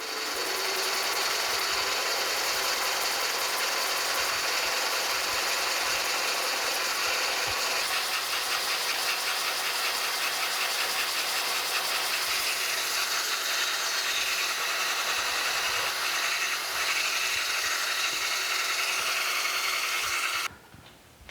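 Continuous mechanical grinding and whirring of a drill boring into metal for a steam locomotive bearing wedge, steady and close, with a rattling texture before it abruptly cuts off near the end.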